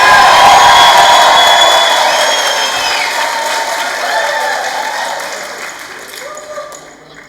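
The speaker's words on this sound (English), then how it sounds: "you give me the cheer, right?" A large graduation audience in a college ceremony hall bursts into loud applause and cheering with whoops, starting at full strength and gradually tapering over several seconds.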